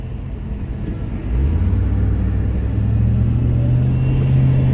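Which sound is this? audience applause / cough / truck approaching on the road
truck approaching on the road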